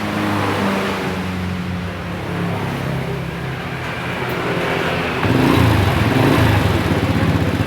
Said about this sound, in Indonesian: Saya akan hidupkan motornya ya.